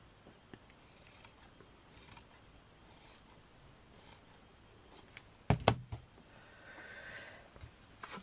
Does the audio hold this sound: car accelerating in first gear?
no